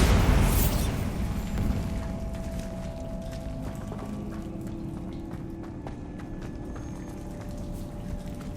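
The Bombarda blasting spell in Hogwarts Legacy goes off with a loud, booming burst right at the start, then a rumbling decay that fades under ambient game sound.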